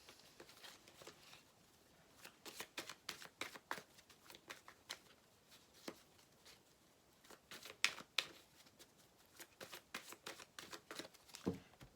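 Oracle cards are shuffled softly and close by in quick, uneven flurries of papery flicks and taps, with brief pauses between riffles.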